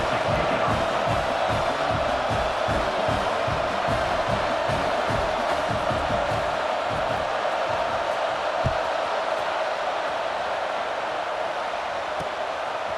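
A stadium crowd in EA Sports College Football 26 keeps up a dense, steady roar at moderate level throughout, with no distinct cheers rising out of it.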